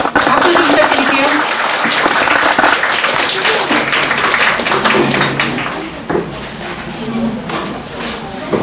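An audience at a lecture hall gives sustained clapping for an introduced speaker, a steady dense wash of hands with a few voices mixed in, fading slightly near the end.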